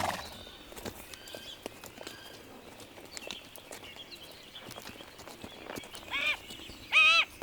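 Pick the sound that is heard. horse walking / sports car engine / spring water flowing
horse walking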